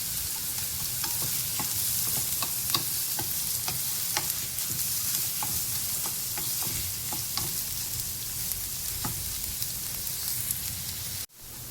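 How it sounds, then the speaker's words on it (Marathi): Onion frying in a pan for a Konkani jackfruit vegetable dish, with a steady loud sizzle throughout and the regular scrape and clink of a spoon stirring every second or so, close and without talk. "कांदा आपल्याला छान भाजून घ्यायचा आहे।"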